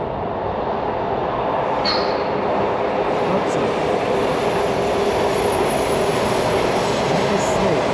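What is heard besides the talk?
metro train rumbling out of a tunnel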